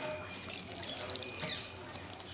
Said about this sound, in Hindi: ये कॉम्स मैंने लगा दिए हैं और अब मैं इसमें पानी डालूंगी।